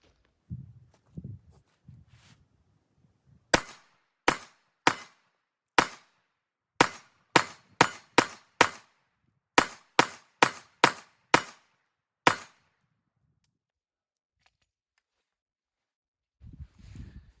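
Glock pistol fired in a series of about fourteen sharp, loud shots spaced unevenly over roughly nine seconds while testing point of impact, with brief low talk before and after.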